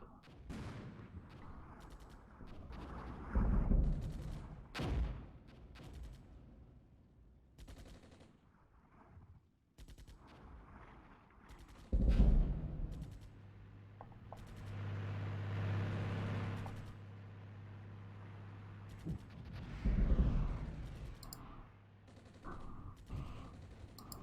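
Artillery barrage in the tank-warfare game Armored Brigade: several heavy booming impacts spread across the stretch, each a loud thud with a rumbling tail, between quieter stretches of low mechanical rumble.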